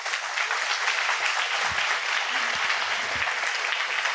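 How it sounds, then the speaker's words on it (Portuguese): A church congregation applauds together during a sermon, a steady, dense wash of clapping that holds an even loudness for the whole stretch, with faint low murmurs beneath. "Vamos aplaudir Jesus bem forte"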